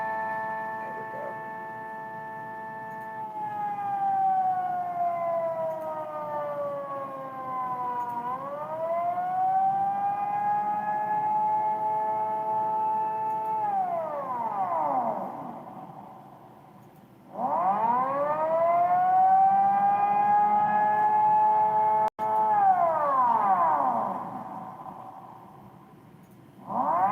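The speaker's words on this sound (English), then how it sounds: "So it will sound like a coded Model M." Coded Model M civil defense siren, heard loud and close: a long steady wail that dips and climbs again, cuts out briefly, then returns in a second sustained rise-and-fall cycle.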